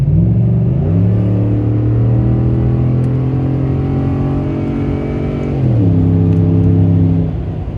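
A Ford F-150 5.0 pickup with an MBRP cat-back exhaust rumbles deeply as it accelerates, the exhaust note rising, dropping briefly at a gear shift, then climbing again, loud and close.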